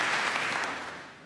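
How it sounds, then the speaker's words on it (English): Studio audience at a radio comedy panel show applauding, a dense wash of clapping heard close that gradually fades out. "Omen deserves a round of applause."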